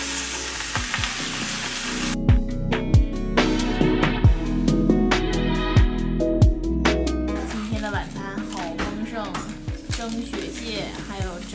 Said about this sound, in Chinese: 爸爸要炒菜啦